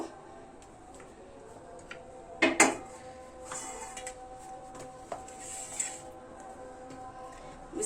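A plate and cutlery are handled in a home kitchen while pizza is served, with a sharp clatter of ceramic and metal near the mic followed by a few lighter clinks and taps.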